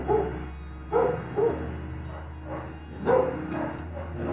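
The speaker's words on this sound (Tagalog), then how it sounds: "Meron kasi akong alagang aso dito sa pan, nilagay ko muna sa terrace." A pet dog on a terrace barks in short bursts, several sharp yaps spaced irregularly at moderate distance, with a low steady hum underneath.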